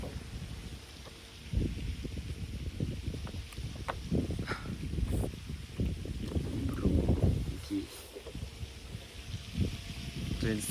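Cold wind blowing outdoors at night in a garden: low, uneven rumbling gusts buffet the microphone throughout, with light rustling and scattered soft knocks, and a voice may be faintly present beneath it.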